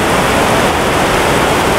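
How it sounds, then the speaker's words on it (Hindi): Fast-flowing water rushing at Sahasradhara, Dehradun, a loud, dense, unbroken roar close by, filling the whole clip with no gaps and no voices. "आपको आवाज़ आ रही होगी पानी की यहाँ पे कितना तेज़ है"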